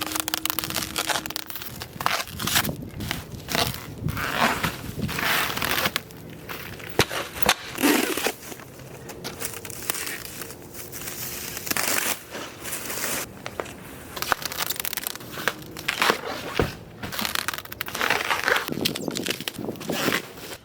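Packaging is pulled and torn off five new Method Race wheels with 33-inch tires for a Colorado ZR2, giving continuous crinkling, rustling and crunching close by, with scattered thumps and footsteps.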